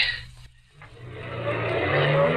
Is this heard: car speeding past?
yes